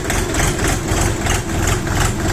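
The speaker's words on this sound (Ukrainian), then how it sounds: "Чуєте, як двигун вже запрацював? Спокійно собі двигун працює." A KENTAVR 24 hp mini tractor engine idles calmly and steadily up close, a loud continuous low rumble with a fine mechanical texture and no talking.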